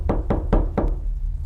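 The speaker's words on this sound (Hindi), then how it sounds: "दोपहर के करीब 12 बजे दफ्तर के दरवाजे पर एक जोर की दस्तक हुई।" Four loud, evenly spaced knocks on an office door, heavy and close, with a slight pause before the last one, followed by quiet.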